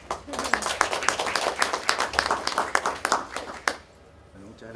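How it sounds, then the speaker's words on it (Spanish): At a panel on gender and masculinity the audience applauds, a brisk burst of clapping from a small room that fades out abruptly after about four seconds, leaving a faint murmur. "Le damos un aplauso."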